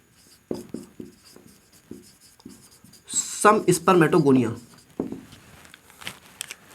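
Marker or chalk strokes on a classroom board, a series of short scratchy taps followed by a longer burst of rapid writing, while a teacher talks throughout.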